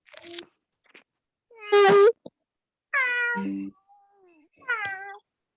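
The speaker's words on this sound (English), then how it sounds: "Looks like we get to see the kitties." A cat meows several times in short, separate calls, some drawn out into a wailing moan, close and clear with silent gaps between them.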